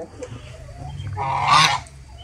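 A goose honks once, close and loud, a short nasal call rising out of quiet farmyard background near a shared nest with a duck.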